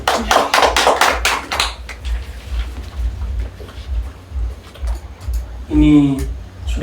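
Students in a classroom during a mathematics teaching practice session clap hands in a quick rhythmic pattern of sharp bursts, then fall to quieter scattered taps before a voice speaks briefly near the end.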